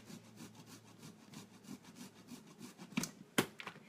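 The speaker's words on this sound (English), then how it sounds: "And I'm going to grate. Parmesan cheese is a harder cheese." A hard block of Parmesan cheese scrapes across a grater in quiet, rhythmic strokes, with a couple of sharper, louder rasps near the end.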